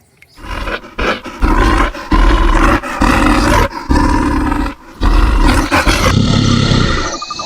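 A bear gives loud, close roars in long, rough bursts separated by short pauses, ending in a harsher final stretch.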